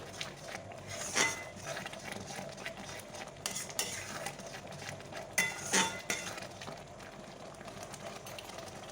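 A spoon stirs palm kheer (taler kheer) with bay leaves in a pot, giving steady soft scraping and occasional clinks against the metal, with a couple of louder knocks, close and continuous.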